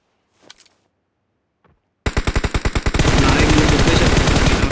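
In the video game BGMI, a rapid burst of automatic gunfire starts abruptly after near silence and a faint voice, then merges into a loud, sustained roar of continuous shots.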